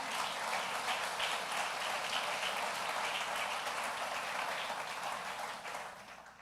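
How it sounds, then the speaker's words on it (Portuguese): A church audience applauds in a soft, dense, rain-like wash of clapping that holds steady and then fades toward the end. "Você pode aplaudir Jesus?"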